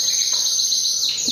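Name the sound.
imported SF canary singing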